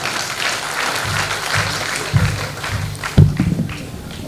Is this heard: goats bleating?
no